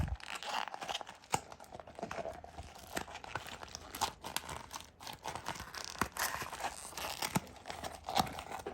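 A 3D printed foam insert for a Proline Baja Pro X RC tire is crumpled by hand, giving a steady quiet crinkling and crunching with scattered sharper snaps, close and alone.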